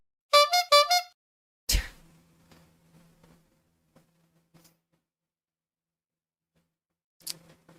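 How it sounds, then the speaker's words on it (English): Three quick, bright horn honks in a row, followed by a sharp thud and faint scattered clicks, then a brief buzzy burst near the end. "the honking noise?"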